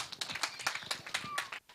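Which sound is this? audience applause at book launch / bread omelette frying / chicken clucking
audience applause at book launch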